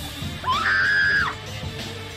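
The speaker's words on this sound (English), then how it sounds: "each boss fight still uses a different scream sound effect as a placeholder" A single drawn-out scream sound effect used as a placeholder for a boss fight in the video game Pizza Tower, loud and sustained for under a second with a rising start and falling end.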